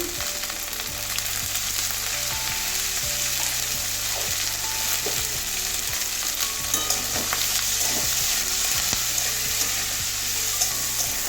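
Potatoes and cauliflower frying in oil with turmeric, a steady dense sizzle running throughout with occasional stirring scrapes, close and without talk.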